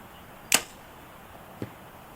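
A sharp snap of an arrow leaving a compound bow, then a fainter thud about a second later as it strikes a target 75 yards away, with quiet background hiss.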